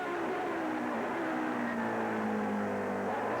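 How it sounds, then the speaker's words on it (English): A Judd V10 racing car engine in a 2000 Grand Am race at Mid-Ohio, heard through the keyhole turn. It gives a sustained, buzzing whine whose pitch slides steadily downward as it decelerates, with constant track noise underneath. "Listen to this engine, this V10."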